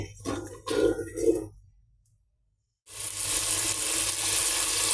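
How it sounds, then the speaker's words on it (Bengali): Ground cumin and spices frying in oil in a pan for khichuri, a loud hissing sizzle that breaks off into brief silence and then returns steady and strong, with some stirring clatter early on. "এখন আমি মশলাটা আগে কিছুক্ষণ কিছুক্ষণ কষিয়ে নেব"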